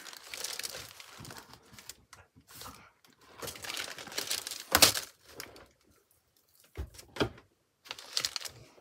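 Paper strips being cut and handled, with intermittent close crinkling and rustling bursts separated by short pauses, fairly quiet overall.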